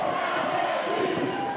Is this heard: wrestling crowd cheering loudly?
yes